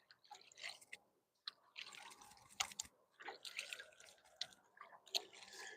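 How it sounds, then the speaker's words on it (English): Light rain sprinkles beside a small river near a dam during trout fishing, a soft, uneven patter of drops that keeps pausing and returning, with no talk. "Starting to sprinkle a little bit right now too."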